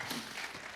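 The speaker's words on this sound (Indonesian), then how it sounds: "Kasih tepuk tangan dulu buat Tuhan." A church congregation claps together at a worship service, a brief, dense wash of applause at moderate level with no talk over it.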